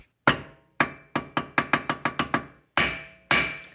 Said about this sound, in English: Let me smack it with a hammer a few times.